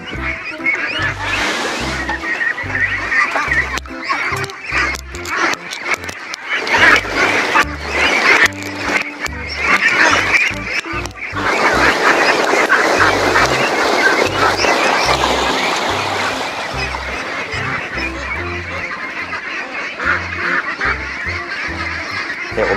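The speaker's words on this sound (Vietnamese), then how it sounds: "Ôi chỗ này vịt nhiều ghê." Van Dinh grass ducks on a Vietnamese farm, a dense flock quacking loudly and continuously at close range, with overlapping rhythmic honking calls and scuffling, building into a busier chorus midway.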